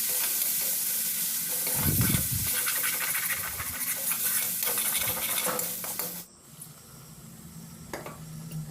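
A spoon scrapes and knocks around a pan as spice paste fries, its loud steady sizzle dropping off abruptly partway through, leaving quieter bubbling and an occasional clink.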